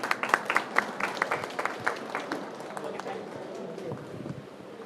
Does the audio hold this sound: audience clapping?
yes